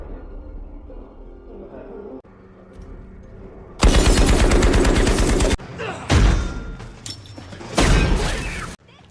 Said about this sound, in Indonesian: mereka tadi menembak menggunakan senapan milik mendiang sang ayah